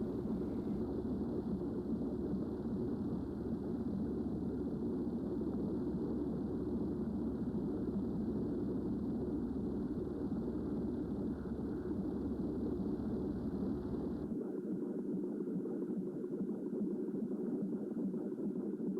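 Distant traffic and plane engines whir near a highway overpass as a faint, steady low rumble that continues evenly, then thins and drops off abruptly near the end.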